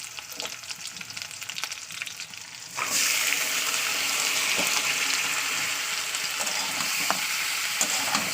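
Meat dropped into a pan of onions fried until reddish brown, about 700 grams. There's quiet stirring at first, then a sudden loud burst of steady sizzling frying from just before three seconds that carries on to the end, close up with no talk.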